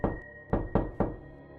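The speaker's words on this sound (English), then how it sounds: "a knock echoed through the door" Four knocks on a door, one then a pause and three quicker raps, each a close, hollow, resonant thud with a short echo, used as a story sound effect.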